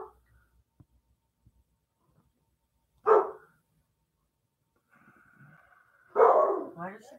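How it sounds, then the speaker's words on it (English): A dog barks in two short, loud bursts a few seconds apart, with a faint whine or whimper just before the second one; the spaces between are mostly quiet. "Why does she keep barking?"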